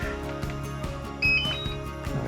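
A DJI Mini 5 Pro drone and its controller power on with a short series of faint electronic beeps and tones, quiet and close, over a low background hum.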